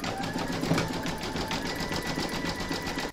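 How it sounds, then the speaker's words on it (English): Embroidery machine stitching a zigzag round on an in-the-hoop stacked pumpkin project, a steady rapid mechanical whir with rhythmic needle clatter running continuously and close. "You're going to pop your hoop back into your machine and stitch round number 6"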